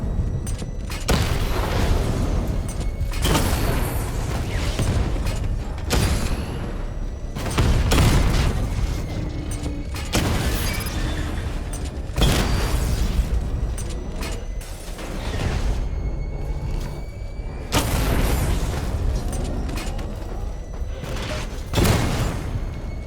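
The Batmobile's secondary weapon barrage in Batman: Arkham Knight fires in repeated salvos, each a loud burst of booming explosions followed by mechanical clanks and rumble, recurring at roughly regular intervals.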